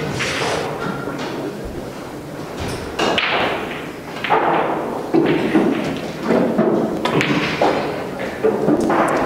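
Hard racquet strikes on a ball at close range during a match, a series of loud sharp thumps in an irregular rhythm, with footfalls and bursts of court noise between them.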